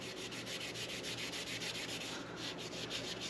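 Steady abrasive rubbing of a polishing pad scrubbing crusty old grease off steel trailer axle spindles on a 14k GVW equipment trailer, continuous and close with a fast repetitive pulse, no talking.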